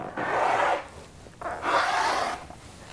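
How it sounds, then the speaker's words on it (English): Two long, steady swishing strokes of a blade cutting fabric along a ruler, close and fairly loud, separated by a short pause. "Take your time lining up your ruler, and then I'm gonna cut."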